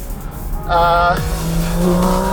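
Porsche Cayman GT4 RS on a Swiss Alpine pass, engine note steady through a second-gear corner, then a brief tyre squeal and a rising tone as the car pulls out, loud and close.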